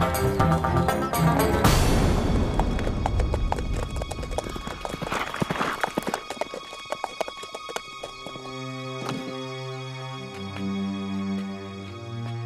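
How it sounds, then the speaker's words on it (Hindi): A horse's hooves clip-clop steadily in a Hindi historical drama set in the era of the Rani of Jhansi, with a whinny and dramatic orchestral music swelling over the hoofbeats, fairly loud and close. "ये तो श्रीमंत साहब का घोड़ा है।"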